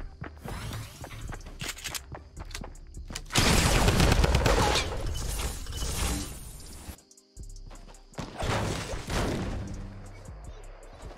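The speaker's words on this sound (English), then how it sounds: "Someone shot down here, I think." Rapid bursts of gunfire and automatic weapon fire crackle in a squad battle royale video game, loud volleys clustered in several waves with brief gaps, accompanied by footsteps and impacts while a player talks under the action.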